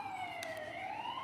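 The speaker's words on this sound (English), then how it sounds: "I really hope they hear the siren" A police or emergency vehicle siren wails in a smooth rising and falling tone, fairly clear and sustained, with a couple of brief sharp clicks near the start.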